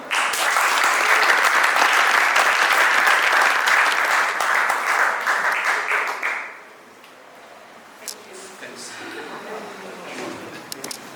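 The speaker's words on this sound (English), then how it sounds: "let's give a big applause to Johannes Edelbacher, Nathalie Enzinger, Georg Bramshuber, and Florian Wimmer" An audience applauds panel speakers at a Vienna Blockchain Week crypto tax panel, a dense, loud wash of clapping for about six seconds that fades out abruptly into room quiet with scattered noises.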